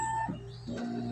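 Epson L550 printer's scanner unit moving, a steady mechanical whir with shifting motor tones and a brief rising whine, alone at close range.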